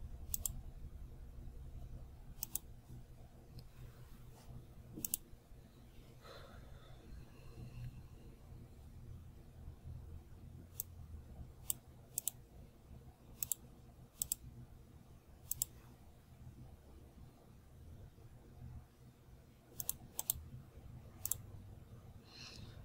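Sharp mouse clicks on a computer while editing a map model in EPA SWMM software, scattered singly and in quick pairs over a low steady room hum, close and fairly faint.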